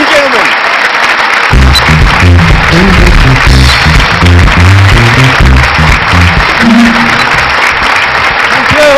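Loud, dense applause from a live audience at a hosted stage event runs steadily throughout, with voices sounding over the clapping.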